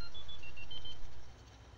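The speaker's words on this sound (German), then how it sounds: "wie mein Telefon, was gerade so scheiße klingelt" An electronic telephone ringing: a handful of short, high beeping tones at a faint to moderate level over a low hum, fading out to quiet near the end.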